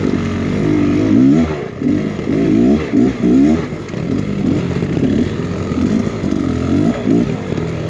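A Beta X Trainer 300 enduro motorcycle ridden hard, its two-stroke engine buzzing loud and close with rising and falling revs throughout.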